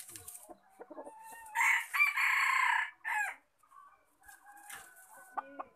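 Several roosters crow in turn close by, long strained calls mixed with clucking from other fowl and scattered farmyard noises.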